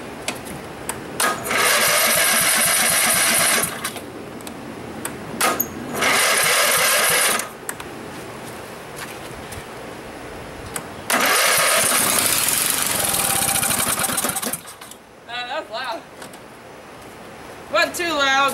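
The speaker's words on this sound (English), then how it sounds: "We're gonna run it with no muffler." A Craftsman lawn tractor engine without a muffler roars loudly in bursts, revving hard, cutting off, then sputtering and popping as it dies down.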